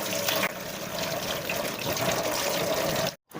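Water runs and splashes steadily nearby as raw chicken is rinsed clean, then stops abruptly for a moment near the end.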